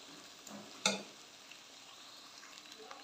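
Potato and spinach curry (Bihari aloo palak sabzi) fries quietly in a pan, a soft steady sizzle with one sharp clink of a utensil early on.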